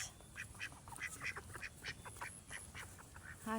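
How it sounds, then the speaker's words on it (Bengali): Faint ducks quack repeatedly in quick, uneven bursts against steady outdoor background noise. "এই যে হাঁস"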